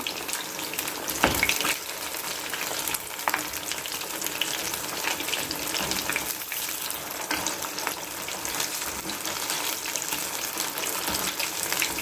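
Oil sizzles and crackles steadily as fish fries in a pan over a low simmer flame, with occasional louder pops and stirring sounds, close and continuous.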